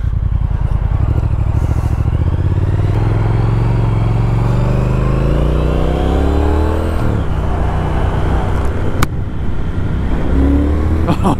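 A 2019 Triumph Speed Twin 1200 motorcycle engine revs and pulls through the gears while riding on the road, loud and close, its pitch climbing and then dropping between shifts with constant wind rush.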